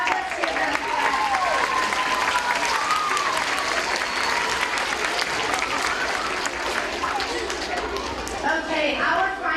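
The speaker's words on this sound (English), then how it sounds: "Let's give them a clap." A school gym audience clapping and cheering for singers at a student event, sustained loud applause mixed with crowd chatter and children's voices throughout, with people talking underneath.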